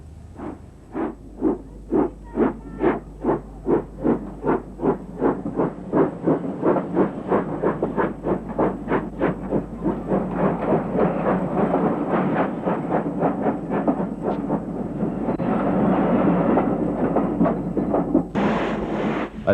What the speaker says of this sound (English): At Nuneaton we see former LMS 3-cylinder Jubilee class 460 number 45617, Mauritius